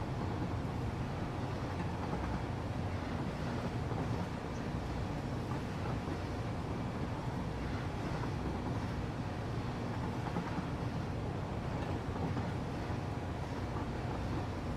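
A train rolls along the tracks with a steady, dense rumble and low mechanical roar that runs unbroken throughout, heard from inside the carriage with no talking.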